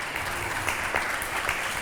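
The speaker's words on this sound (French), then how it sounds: "On peut les applaudir, s'il vous plaît." An audience at a media ethics assembly claps steadily and densely, a short burst of applause in a hall.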